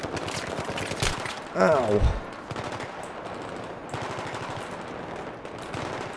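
Rapid machine gun fire from the video game Battlefield 3 rattles continuously in dense bursts, with game explosions and battle noise layered around a player who talks over it.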